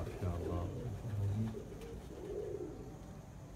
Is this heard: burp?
no